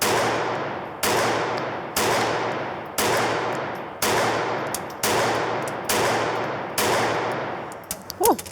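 Eight loud gunshots at a shooting range, fired at a steady pace of about one per second, each sharp crack followed by a ringing decay, with faint movement and a brief voice at the end.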